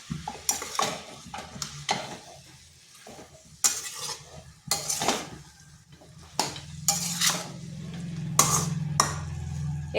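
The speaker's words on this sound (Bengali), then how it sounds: "লাউটাকে কিন্তু খুব ভালোভাবে মশলার সাথে কষিয়ে নিতে হবে।" Bottle gourd sautéed with spices and salt in a pan, no water added, with repeated scraping stir strokes of a utensil against the pot over a steady low sizzle, loud and close, no talk.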